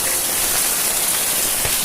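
Steady night rain pouring in Ratnagiri, a dense, even hiss of water hitting surfaces nearby, continuous and fairly loud throughout.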